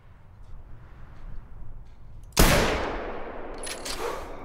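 A hunting rifle shot in The Hunter video game, a single sharp loud blast that cuts through a quiet outdoor ambience and trails off in a long rolling echo.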